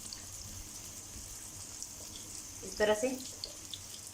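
Shami kababs fry in hot ghee with a steady, soft sizzling hiss throughout, a brief clatter rising midway, while someone speaks a few words.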